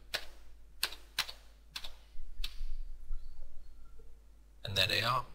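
Crisp, widely spaced clicks of single computer keys, as when pressing cursor keys, each tap sharp and close in a quiet room, with a burst of faster clatter near the end.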